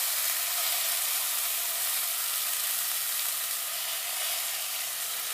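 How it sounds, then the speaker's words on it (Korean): Steady, close sizzling hiss of fish laid on onions in a hot oiled pan, continuous and even throughout with no talking. "양파 있는 부분 위쪽에다가 생선을 올려줍니다."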